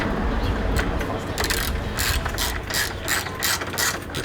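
A ratchet wrench tightens a bolt on the end cap of an RV awning arm, giving a close, rapid series of clicking pawl strokes in quick bursts, with no talk.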